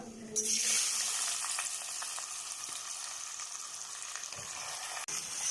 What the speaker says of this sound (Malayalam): ഇതൊന്ന് ചെറുതായി വറുത്തെടുക്കണം